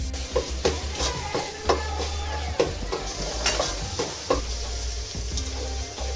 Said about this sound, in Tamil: இப்போ வந்து பச்சை மிளகா போட்டுடலாம்